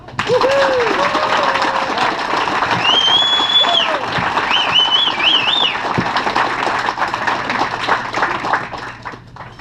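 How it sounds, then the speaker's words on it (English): Loud crowd applause honoring racers, dense clapping with whistles and cheering voices mixed in, sustained across the whole stretch before tapering slightly at the end. "let's give a big round of applause for Ryan and Dave."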